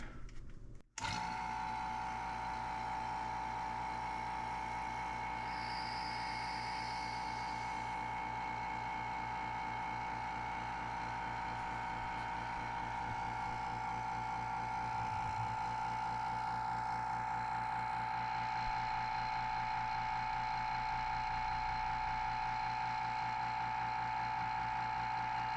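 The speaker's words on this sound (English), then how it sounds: "let's go ahead and turn on the vacuum, close the valve, and then we'll let it pull a vacuum" A vacuum pump draws a vacuum on a chamber for resin stabilizing maple burl. It gives a quiet, continuous mechanical drone with a steady tone and a faint rattling texture that runs unbroken to the end.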